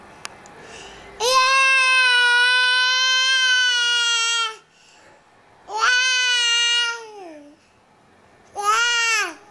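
A baby boy babbles and squeals in three drawn-out vocal bursts, high and harmonic with falling pitch at the ends, close to the microphone, separated by quiet gaps.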